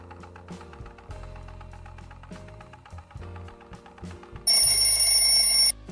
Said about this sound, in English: I'm starting the timer.